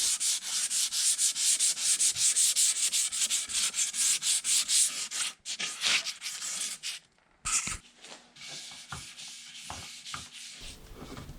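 Ash live edge wooden tray being sanded with rhythmic abrasive rubbing strokes, loud and close, then slower intermittent scrapes with pauses near the end.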